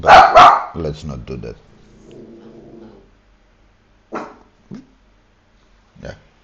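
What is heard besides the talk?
dog barking and growling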